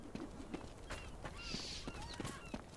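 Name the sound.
horses galloping in the video game Chivalry 2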